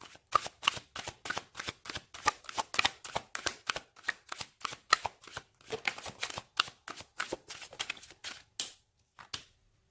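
Tarot cards shuffled by hand in a quiet room, a long run of quick, crisp riffling bursts in a steady rhythm, close and moderately soft, tapering off into a few final taps with no voices.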